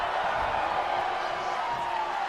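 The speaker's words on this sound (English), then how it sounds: "Mixed feelings from this crowd here." Arena crowd noise from the WWE 2K22 wrestling video game: a steady, dense murmur of a large audience with faint scattered shouts, continuous and fairly loud throughout without a clear swell or cheer.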